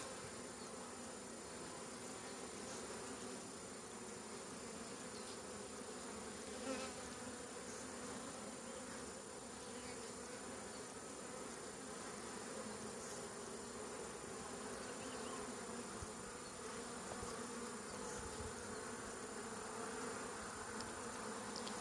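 Honeybees buzz in a steady, dense drone throughout an opened colony during a hive inspection, close and continuous, with no talk over it.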